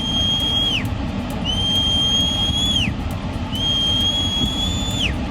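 Piercing human whistles sound in three long rising-then-falling blasts as warnings of a flash flood in the mountains of Shopian, with a loud, constant roar of floodwater beneath them.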